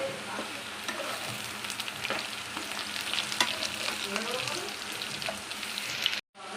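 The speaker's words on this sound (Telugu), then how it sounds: "మనకు క్రిస్పీగా కావాలి కాబట్టి ఇలా మనం ఫ్రై చేసుకుందాం." Potato pieces fry in hot oil until crisp, giving off a steady close sizzle with occasional stirring clicks. No one talks, and the sound cuts off abruptly at the end.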